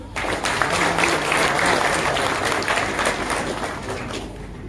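An audience at a lovebird show applauds steadily and fairly loudly, a dense wash of clapping that holds for several seconds before easing slightly at the end.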